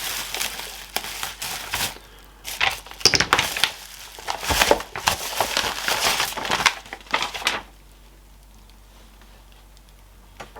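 Protective packing material being pulled out of a parcel for a Barry King maul, with close crinkling and crushing bursts for about eight seconds, then a quiet stretch.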